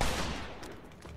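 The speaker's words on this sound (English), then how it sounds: "This gun shoots nice and fast there, I suppose." A gun in the video game Mafia 2 fires rapidly, with a dense burst of sharp, loud shots that fades slightly over about a second.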